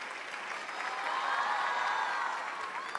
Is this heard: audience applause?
yes